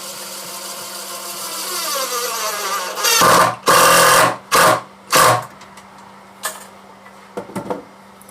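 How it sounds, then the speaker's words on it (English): A power drill drives a screw into the center brace of a wooden American flag, giving several loud, short whirring bursts after a lower mechanical whine, then a few faint knocks. "right here by this brace in the center of that stripe, we'll run a screw in there"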